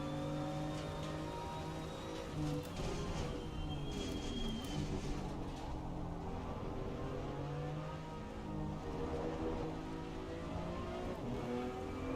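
Steady rain hiss in a BMW M2 CS racing game at Silverstone, a constant broadband wash layered over the drone and shifting whine of the race car engine, moderate and unbroken throughout.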